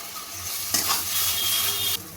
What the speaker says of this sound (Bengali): এবার গোবিন্দভোগ চালটাও মশলার সাথে ভালোভাবে কষিয়ে নেব।